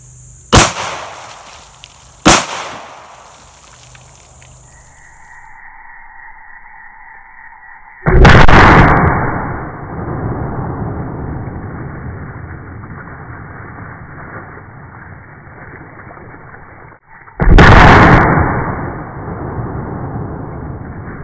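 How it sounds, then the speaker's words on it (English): Two loud, sharp pistol shots from a compact Smith & Wesson .40 caliber firing G2 Research R.I.P. 115 grain rounds ring out on an outdoor range, spaced well apart, each followed by a long, hissing decay. Softer earlier bangs precede them. "The R.I.P. 115 grain out of a 40 caliber Smith & Wesson compact. Let's see how she performs."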